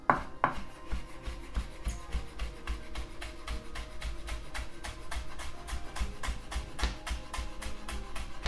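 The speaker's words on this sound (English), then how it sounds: "and then you start cutting." A knife cuts vegetables into thin julienne strips on a cutting board. Rapid, even chopping taps repeat close by for the whole stretch, with a few heavier knocks near the start.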